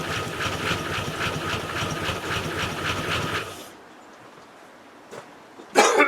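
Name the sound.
Range Rover engine firing up and running roughly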